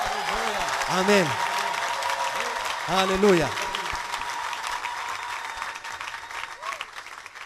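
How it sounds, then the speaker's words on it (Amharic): A church congregation applauds, bursts of clapping from many hands under a loud voice calling out, with sustained crowd clapping continuing between the shouts. "ብቻውን ለሚሰራ ለእግዚአብሔር እስቲ ታላቅ ጭብጨባ"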